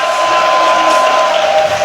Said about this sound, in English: the crowd gets pumped